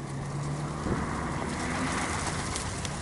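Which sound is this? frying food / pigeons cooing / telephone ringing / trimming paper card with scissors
pigeons cooing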